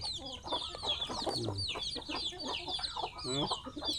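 Chickens cluck repeatedly at close range on a rural farm, with a dense chorus of short calls overlapping throughout and small birds chirping high above them.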